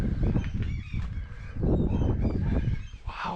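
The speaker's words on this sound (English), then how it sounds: "Seagulls going mental out there." Loud, busy honking calls of seagulls at an abandoned WW2 Chain Home radar station in Scotland, overlapping and nearly continuous throughout, close and raucous.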